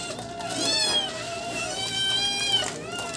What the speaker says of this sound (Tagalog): pakainin natin yung mga bubuit nating pusakal